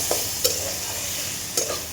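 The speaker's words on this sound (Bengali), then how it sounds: "ভালো করে লাল লাল করে ভেজে নিয়ে নামিয়ে নেব" Chopped taro stolons frying in a pan until reddish: a soft continuous sizzle with a few brief clinks and scrapes of stirring, close and fairly quiet.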